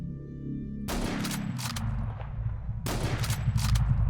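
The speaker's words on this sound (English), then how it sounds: "I'm just shooting them one by one." Gunfire from shooting enemies around a base in the tactical shooter Hidden & Dangerous, heard as a few separate loud broadband bursts over a steady low game rumble, with no talking.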